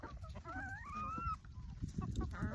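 Chickens cluck and squawk close by as they are fed, with a drawn-out rising call near the start and scattered pecking and rustling underneath.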